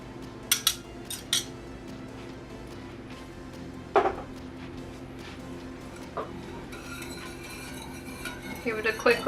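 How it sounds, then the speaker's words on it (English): Ingredients for chicken pot pie, with bouillon cubes and garlic, are stirred in a cooking pot, giving a few sharp utensil clinks against metal early on, then scattered scraping and clatter over a steady low kitchen hum. "Give it a quick little mix here."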